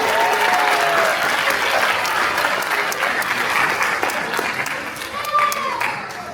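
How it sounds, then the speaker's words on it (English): An audience applauds the chorus and soloists at a school bridge ceremony for the class of 2030 at Wadsworth Magnet School. The clapping is loud, dense and sustained for the whole stretch, with faint voices and cheers mixed in. "Can we give another round of applause to our chorus and"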